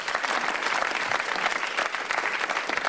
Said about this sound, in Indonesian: tepuk tangan dulu yang meriah